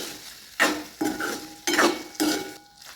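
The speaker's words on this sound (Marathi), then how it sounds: "आपल्या मसाल्यातच अंडी मिक्स करून घ्यायचे" Chopped boiled eggs get stirred into an oily masala in a pan, with four distinct scraping, clattering strokes of a spoon against the metal in an uneven rhythm, close and fairly loud, with a soft sizzle beneath.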